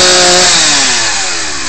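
A chainsaw runs loudly and close, its engine pitch sliding downward as it winds off from high revs.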